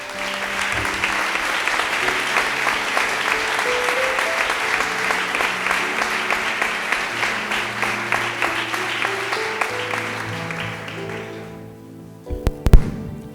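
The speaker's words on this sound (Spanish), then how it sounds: "esta cerrada ovación va por todos ellos" A sustained ovation from the audience at a bullfighting proclamation event for the Feria de la Virgen del Prado in Ciudad Real: loud, dense crowd applause with a steady musical tone running underneath, fading out near the end before a few sharp knocks.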